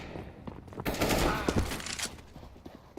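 A sharp, loud AWP sniper rifle shot with a short crackling tail from CS:GO, close up, with brief talk nearby.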